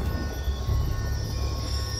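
A train rumbles past in Call of Duty: Black Ops 2, a steady heavy low roar with faint rattling and a thin high whine, close and continuous.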